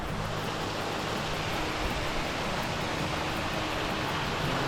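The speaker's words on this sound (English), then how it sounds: "Check out the first waterfall" A waterfall on an Arkansas creek pours with a dense, constant broadband rush, close and steady throughout with no voices.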